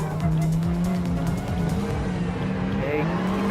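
Race cars roar through a Gran Turismo Sport race involving a Lamborghini Huracan, with engines droning and shifting pitch and tires squealing, all dense and continuous with a voice speaking faintly underneath.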